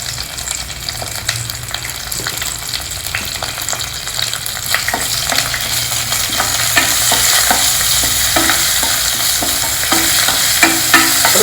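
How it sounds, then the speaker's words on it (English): Whole black pepper, cumin seeds and asafoetida roasting in a hot oil and ghee mix, a steady close sizzle with frequent scraping and stirring clicks from the spoon against the pan, no voices. "Roast all the ingredients well in this oil ghee mix."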